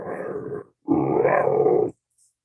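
A human voice imitates a monster's deep, guttural grunting in two rough, growly bursts, the second longer and louder, close to the microphone.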